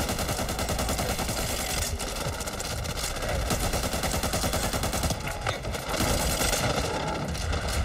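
Sustained machine gun fire in the video game Back 4 Blood, dense and continuous rapid bursts filling the whole stretch at steady loudness, with no talk over it.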